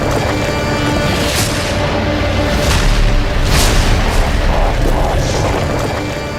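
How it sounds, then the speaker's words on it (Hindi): Tank and artillery fire in northern Gaza produces a dense, continuous roar punctuated by several dull booms, loud and harsh throughout. "गाजा के उत्तरी हिस्से में इजरायल की सेना का एक के बाद एक टैंक और तोप से हमला जारी है"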